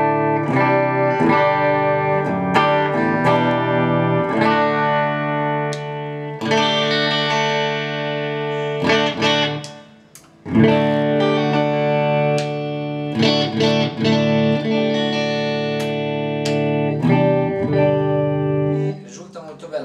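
A mahogany PRS Private Stock Tremonti electric guitar with Tremonti electronics, two tone and two volume controls and coil splits, rings out through effects in loud, sustained distorted chords and riffs with a chorus-like shimmer, nearly continuous with one brief pause midway.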